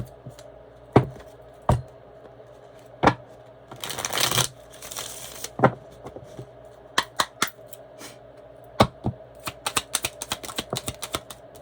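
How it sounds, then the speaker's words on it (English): Tarot cards being shuffled and handled at a reading table: sharp, separate flicks and taps, with one dense riffle burst partway through and faster clicks near the end, close and fairly quiet, with no talk. "Let me pull the cards for your person."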